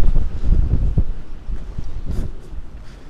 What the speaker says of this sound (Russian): чтобы ветер был, чтобы именно шум волн и ветер для съемок